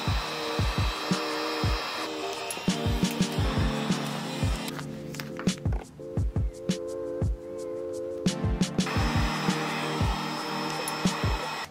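A heat gun runs steadily while vinyl graphics are warmed and smoothed onto a Honda CR85 dirt bike panel, a continuous blowing hiss broken by repeated close tapping and rubbing sounds.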